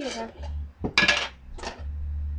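Someone struggles to open a jar of almond butter, making a few short clinks and knocks of lid and glass close by, with brief gaps between them.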